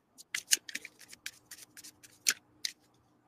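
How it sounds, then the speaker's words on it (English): Oracle cards are shuffled by hand: a quick series of light, crisp flicks and riffles at close range, irregularly spaced against a quiet background. "Okay, so I'm just shuffling with another, but it's the same message."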